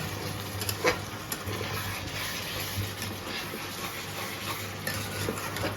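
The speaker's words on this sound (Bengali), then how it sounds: "এটা আবার ভালো করে মিক্স করবো।" Metal spoon stirring food with added water in a pan, with steady scraping and clinking strokes over a faint sizzle and a low background hum.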